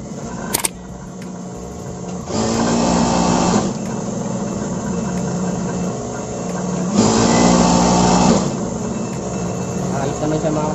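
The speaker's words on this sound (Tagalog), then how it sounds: "Subukan na natin siya tahiin." A Juki high-speed sewing machine stitches after a thread take-up lever replacement, running in two loud sustained bursts of whirring motor and needle noise with a quiet pause between them, close up.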